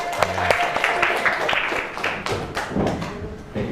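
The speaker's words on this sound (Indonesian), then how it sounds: "Tepuk tangan." Group of people clapping hands together in a rhythmic cheer, a brisk run of overlapping claps and thumps of moderate loudness, with voices mixed in.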